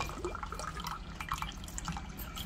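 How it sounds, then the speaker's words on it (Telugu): Water poured into a drinking glass, a continuous soft trickling and dripping splash throughout, fairly quiet and close with no voices. "ఇది తీసుకున్నాక దీంట్లో వాటర్ అనేది యాడ్ చేస్తున్నాను"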